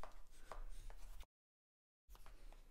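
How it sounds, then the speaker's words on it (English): Bone folder or tool rubbing quickly along the folded edge of a cardstock 3x3 gift box lid, a run of soft scraping strokes, a pause of silence, then more short rubbing passes, close and fairly quiet. "And then I do like to come in and burnish that real quick."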